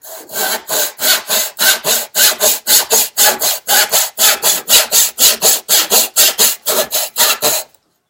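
A hand saw cross-cutting a board, with steady rhythmic rasping strokes, about three per second, loud and close, running alone for nearly eight seconds before stopping abruptly.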